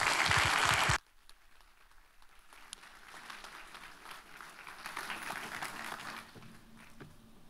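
Church congregation applauding as a pastor is welcomed to the stage, a loud burst of clapping that drops sharply after a second into softer, sustained scattered applause and crowd noise.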